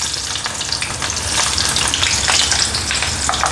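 Chopped onion hits hot oil in a kadhai where mustard seeds are already spluttering, giving a loud, steady, close sizzle with crackling pops throughout, as a spiced tempering for a green-chilli vegetable dish.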